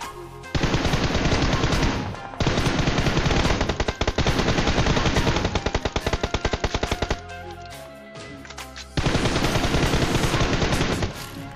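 BGMI battle royale game gunfire: long, loud bursts of rapid automatic fire, separated by short gaps and a sparse run of single shots, with no talk.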